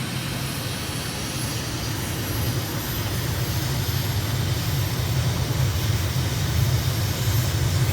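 Airplane engine in a flight simulator game rising in a steady broadband roar as the aircraft begins its takeoff roll, loud and continuous with no talk.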